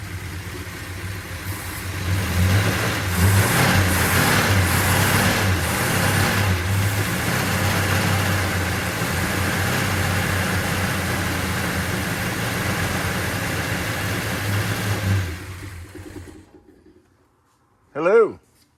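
A 1968 Dodge Coronet R/T with a 440 V8 running on a substitute carburetor rumbles steadily and loudly for about fifteen seconds, then cuts out; a voice speaks briefly near the end.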